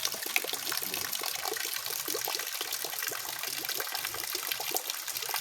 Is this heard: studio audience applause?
no